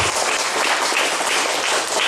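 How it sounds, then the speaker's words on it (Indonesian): Audience applauding at an evangelistic revival service in Tambolaka, Sumba: dense, steady clapping from a crowd, loud and continuous, with no talk over it. "Berikan tepuk tangan bagi Tuhan Yesus."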